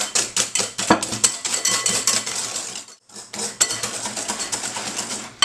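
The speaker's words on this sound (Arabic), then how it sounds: "هنا غادي نخلطهم حتى يبيض لنا هذا الخليط" Eggs and sugar are whisked in a bowl until pale, rapid rhythmic clinking and scraping of the whisk against the bowl, loud and close, with a brief pause midway before the beating resumes.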